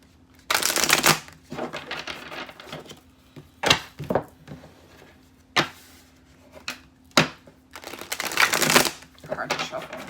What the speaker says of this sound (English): Card shuffle.